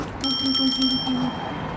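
A small bell on a homemade minibike with a 160cc water-pump engine gives a quick burst of bright metallic rings that lasts about a second, close and clear against a quiet background.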